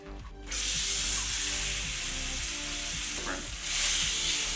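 Brisket rubbed with paprika, garlic powder and flavor crystals is flipped in a hot pan and sizzles loudly and steadily, the broad frying hiss swelling again near the end.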